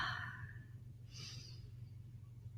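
A slow, deep yoga breath drawn down into the lower belly: a long soft exhale, a pause, then a quieter airy inhale, close and alone over faint low room hum.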